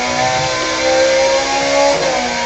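A Ferrari 430 Scuderia engine revs hard and close, with a loud, steady, high-pitched wail that swells and dips through a couple of throttle changes.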